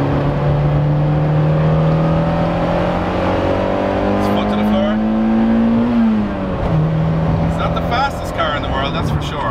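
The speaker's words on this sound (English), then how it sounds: "So I'm just going to warm the car up, take it for a couple of spirited laps" A Toyota AE86 Corolla driven hard on a track in the rain, its engine droning steadily under load, dipping and rising as it shifts and revs, with a person talking over it.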